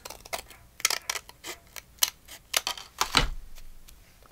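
Scissors snipping through paper while trimming the edge of a handmade mini journal, a run of short crisp cuts with small pauses between them, close and fairly quiet.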